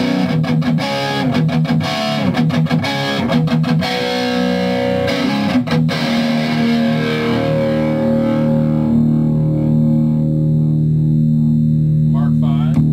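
Electric guitar through a MESA/Boogie Mark V amplifier on the Mark IIC+ channel with heavy gain, loud distorted chugging riffs and stabs that give way to a long sustained chord ringing out alone.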